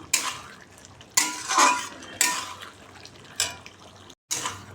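A spoon scrapes and clinks around a pot of white poppy seed curry in a home vegetarian kitchen, in several separate close stirring strokes with wet, sloppy texture between short pauses.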